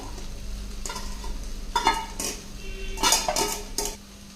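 Cooked rice is tipped into a pan with fried soya chunks and stirred in, giving metal spoon scrapes and clanks against the pan in irregular bursts over a faint sizzle.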